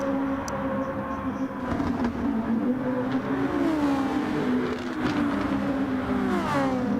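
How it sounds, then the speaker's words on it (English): Race cars in a racing video game at Circuit de Barcelona, several engines whining and revving together with rising and falling pitch as they shift gears, loud and continuous. "Enjoy the sounds of the cars for the final time in this lap."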